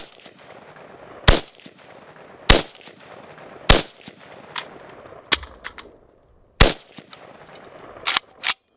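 An AK rifle fires live rounds during a function test: about seven loud, sharp single shots at uneven intervals, each ringing briefly before quiet stretches.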